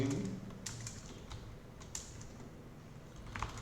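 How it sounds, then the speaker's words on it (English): Typing on a computer keyboard while writing PHP code, a handful of quiet, spaced key clicks at close range over a soft background hum. "I'll type my name"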